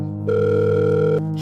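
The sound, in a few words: telephone being called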